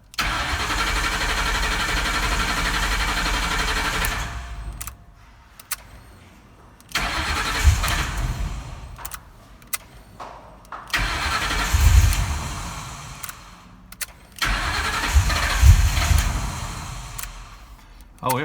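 A truck engine cranks and catches in repeated bursts, revving briefly between pauses, then settles toward running; close and loud with clicks between attempts.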